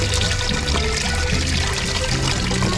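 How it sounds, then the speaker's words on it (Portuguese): Water pouring and splashing around a small water wheel turning in a stream at Nova Petrópolis, Rio Grande do Sul, a steady loud rushing wash with no break. "Olha uma rodinha na água ali"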